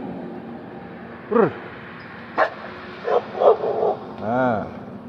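A dog barks near a roadside tea stall in India, with a cow close by: a few sharp, close barks and yips spaced over several seconds, ending in a drawn-out whining howl, with voices in the background.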